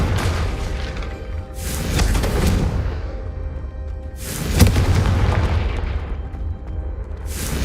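Confringo blasting spell explosions in Hogwarts Legacy, three heavy booming blasts with rumbling tails, the middle one sharpest and loudest.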